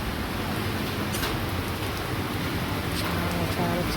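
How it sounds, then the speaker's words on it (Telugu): Steady rain falls outdoors, a dense even hiss with occasional louder drop splashes, continuous and fairly close throughout the short stretch. "వర్షానికి ఇలా అయిపోతుంది మొత్తం మళ్ళీ స్టార్ట్ అయిపోతుంది వర్షం"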